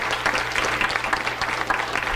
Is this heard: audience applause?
yes